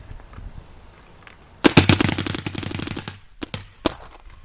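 A Dangerous Power G3 paintball marker fires outdoors, a sharp loud burst followed by rapid rattling pops, then a few separate cracks further on against quiet background.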